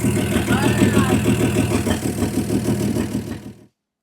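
A 1952 GMC truck engine idles after its first start in 50 years, a loud close rough chugging with a steady uneven knock, cutting off abruptly near the end.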